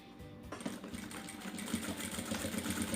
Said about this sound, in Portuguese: Mesma coisa, passo a costura.